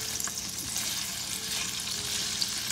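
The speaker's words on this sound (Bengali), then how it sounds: "এই দেখুন সিজল আপ হচ্ছে চিংড়িগুলো" Shrimp sizzle in a hot pan on low heat with a steady crackling hiss, continuous and close, with a faint stirring texture underneath and no voices.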